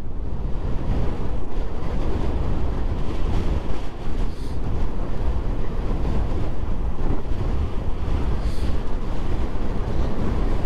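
Strong wind roars steadily into the microphone alongside a master-category road race, a dense, loud, unbroken rush of buffeting gusts with no voices.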